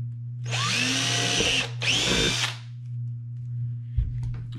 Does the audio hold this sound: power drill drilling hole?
yes